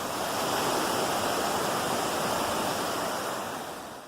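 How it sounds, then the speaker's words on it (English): Beautiful river rapids along the Appalachian Trail rush in a continuous, dense roar of churning water, loud and close, steady throughout with no voices. "But I got me some beautiful rapids down here."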